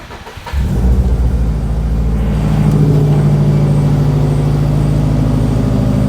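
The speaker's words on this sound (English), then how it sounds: "Let's fire old girl up and see if it leaks." A Subaru STI engine cranks and fires up close by, then settles into a loud, steady rumbling idle with a slight rise in pitch.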